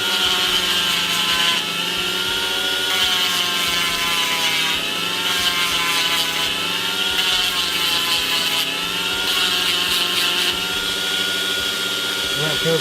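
A rotary tool with a sanding drum whines steadily, its grinding swelling in bursts as it smooths a cast resin badge, with occasional faint voice underneath.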